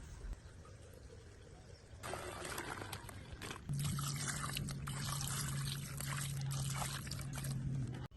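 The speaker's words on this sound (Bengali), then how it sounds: "ডিমগুলো সিদ্ধ করে ছাঁকনি দিয়ে ছেঁকে ঠান্ডা পানি দিয়ে ধুয়ে নিয়েছি" Boiled eggs are drained through a strainer and rinsed under cold water, a quiet kitchen trickle that turns into a steadier pour about halfway through.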